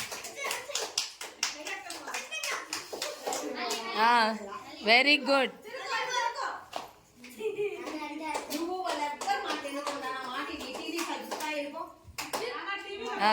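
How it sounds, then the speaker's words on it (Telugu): Children and adults clap their hands at a Children's Day games event at an anganwadi, sharp irregular claps scattered through near, busy talk and cheering voices of adults and kids. "క్లాప్స్ కొట్టండి అమ్మా క్లాప్స్ కొట్టండి"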